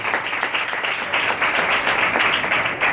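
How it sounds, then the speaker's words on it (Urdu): A church congregation at an Urdu-language Mother's Day Sunday service claps in a dense, rhythmic burst of applause that lasts a few seconds, close and fairly loud. "ذرا تالی بجائیں گے یسوع کے لیے"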